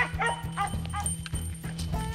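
Squirrel hounds on a small-game hunt in Kentucky give a run of rhythmic barks and yips, fairly close, with some whimpering mixed in and steady outdoor background.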